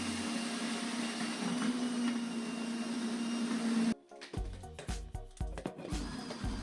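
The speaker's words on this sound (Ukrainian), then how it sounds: "змінюю насадку і натираю моркву, теж комбайном" A steady whirring motor hum runs for several seconds, then cuts to a rapid series of rough grinding pulses as a food processor grates carrots.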